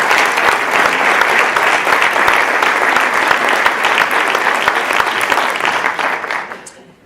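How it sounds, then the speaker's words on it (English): Loud, dense audience applause from a large crowd at a school event, sustained clapping that continues evenly for several seconds before fading out at the end. "Let's give yourself a round of applause for that."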